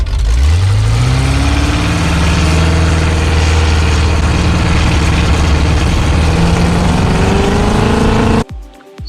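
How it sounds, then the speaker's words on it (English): A MerCruiser engine on a Sleekcraft Aristocrat tunnel-hull boat, with a carburetor and secondary air valve, rises from idle onto throttle and holds a loud, rough, uneven drone that stumbles and breaks up before cutting off abruptly near the end. "as I go from like an idle to on throttle when the secondary is open, I'm getting this stumble."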